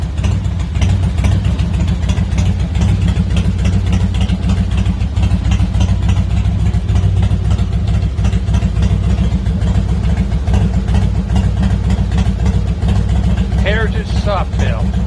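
A Harley-Davidson Heritage Softail motorcycle engine idles after a winter start-up, a loud, steady low rumble held for the whole stretch, with a voice briefly heard over it near the end.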